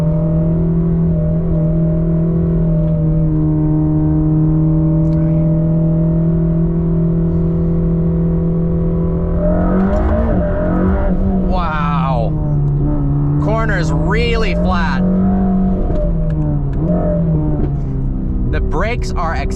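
A Mercedes AMG GT Black Series heard from inside the cabin, a strong steady engine drone holding for several seconds before rising and shifting through revs as it accelerates, while people talk over it.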